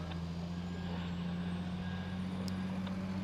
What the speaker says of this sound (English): the first of the aircraft which was parked at the whiskey positions, being towed over to Dock E